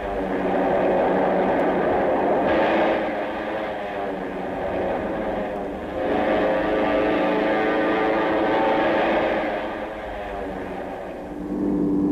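Japanese warplanes take off for the Pearl Harbor attack, a loud sustained drone of piston aircraft engines that swells and eases in long waves.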